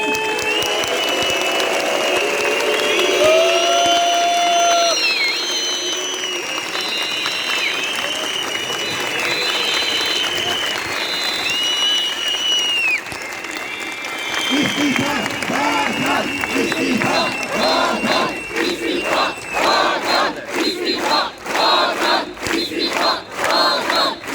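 A large crowd of doctors and health workers at a protest at Çapa in Istanbul whistles shrilly and cheers, then breaks into sustained loud clapping that grows rhythmic, all reverberating in a big space.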